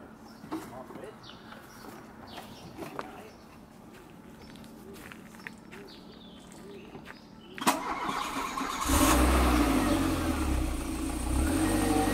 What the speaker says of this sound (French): Le son est tellement typique des moteurs Renault des années 90, c'en est presque exagéré.